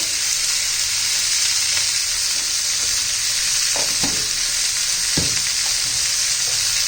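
Chopped onions, already turned translucent, sizzle in a pan with a steady, bright hiss while cooking a quick dry capsicum vegetable dish. A few soft stirring knocks come late in the clip. The sound is close and there is no talk.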